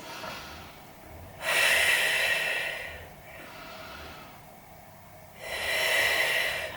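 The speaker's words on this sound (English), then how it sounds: "Let's take 2 more breaths." Deep, slow breaths during a Pilates back stretch, two long airy exhales rising and fading in a steady rhythm, close and soft with quiet pauses between and no talking.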